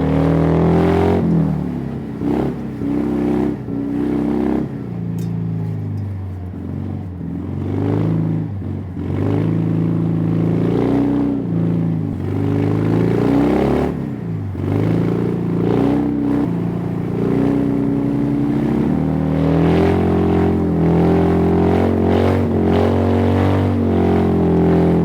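Citroën 2CV cars race on ice at a ski resort, their small engines droning and revving steadily throughout, loud and close with shifting pitch as they slide past.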